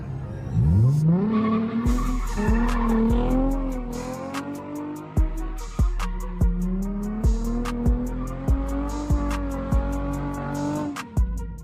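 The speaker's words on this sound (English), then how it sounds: "Let's go a few donuts outside here." A car spins donuts outdoors, engine revving in rising and falling pulls while the tires squeal and skid loudly and continuously, with repeated sharp bursts near the end.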